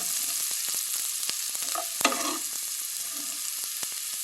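Onions sauté in a pan for cabbage poriyal, a steady low sizzle broken by light scraping stirs and one louder clatter of the spoon near the middle.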